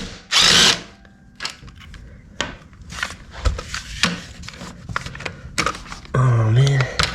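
A power impact wrench works on motorcycle foot peg mount bolts in two short, loud whirring bursts, one at the start and one at the end, with quieter clanks and handling noises between.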